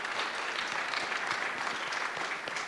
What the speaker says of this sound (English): Maybe a quick round of applause for them.